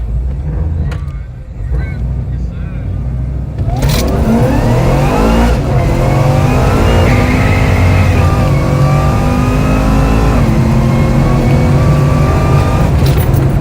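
A stick-shift street car launches hard at a dragstrip after idling, its engine revving up loud and close through several rising gear pulls, with the exhaust roaring steadily to the end.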